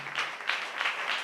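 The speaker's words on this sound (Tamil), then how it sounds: "நல்லா தான் கைத்தட்டி தேவனை மகிமை கொடுக்கும்" A church congregation claps together in a slow, rhythmic pattern, four or so distinct bursts of hand claps, fairly soft and evenly spaced in a reverberant hall.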